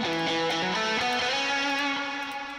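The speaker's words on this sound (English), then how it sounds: "And this is a little bit of reverb." A music track with reverb applied plays alone, sustained tonal notes stepping through a melody with lingering wash and a soft fading tail near the end.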